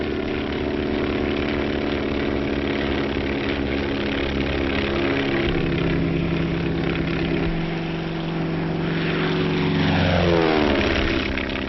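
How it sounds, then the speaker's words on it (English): Light, fast propeller-driven skywriting airplane flying overhead, a steady loud engine drone with layered harmonic hum throughout, shifting pitch slightly near the end as the plane maneuvers. "The planes must be light and fast so they can be easily maneuvered."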